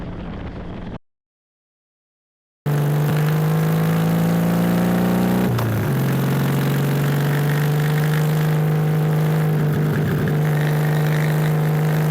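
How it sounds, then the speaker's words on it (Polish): A 1953 Sunbeam S7 motorcycle runs with a smooth, steady engine drone and exhaust note, loud and close. It briefly dips in pitch before settling back into a constant run, with no talking. "gładka praca silnika, brzmienie wydechu tworzą z niego wspaniałego klasyka"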